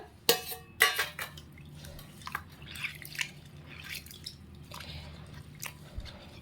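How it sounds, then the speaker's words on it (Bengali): A bowl rinsed with water and set down, with a couple of sharp clinks of the bowl near the start, then soft drips, splashes and wet handling sounds close by, with no talking. "জল দিয়ে আবার ধুচ্ছি এই বাটিটা রাখলাম"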